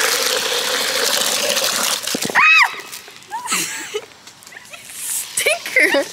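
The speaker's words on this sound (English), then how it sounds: "Sprayed me with a water hose." A garden hose sprays water on a hot day outdoors, a loud hissing gush at the start that cuts off, followed by a shriek and excited voices and laughter with splashy bursts.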